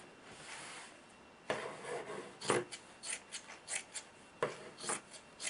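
Scissors cut through fabric while trimming excess material for ironing board accessories, making a series of crisp, close snips and rasping cuts in an uneven rhythm after a quiet start.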